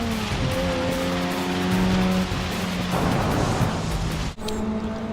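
Race car engine in Forza Motorsport 6, droning steadily with shifting harmonic pitch, a brief gear-change dip near the end, and some tire noise, loud and continuous with no talk.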